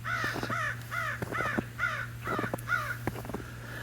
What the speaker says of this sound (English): The crows are singing in the background.